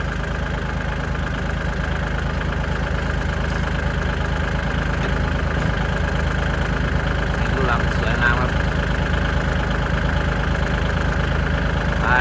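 An excavator's diesel engine runs while loading a ten-wheel truck on farmland, giving a steady, loud, low rumbling drone that holds at an even level throughout.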